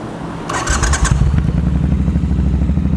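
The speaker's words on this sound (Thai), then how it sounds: "เดี๋ยวเราฟังเสียงท่อตัวนี้ก่อน ว่าเป็นยังไงบ้าง" A Triumph T100/T120 motorcycle engine cranks briefly and fires up, settling into a loud, deep, throaty idle with a rapid burbling pulse from a loud Lowell full-system aftermarket exhaust, close by.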